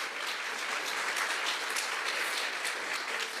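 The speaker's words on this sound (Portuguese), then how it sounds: "Vamos dar uma salva de palmas para Jesus pela vida deles?" A church congregation gives a round of applause for the sound desk team, a continuous, fairly distant wash of clapping with no talk over it.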